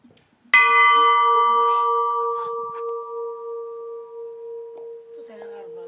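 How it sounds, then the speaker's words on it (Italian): A single bell is struck once and rings out loud and close, its tone humming on and slowly fading over several seconds, with faint voices near the end. "Non ho mai suonato una campana."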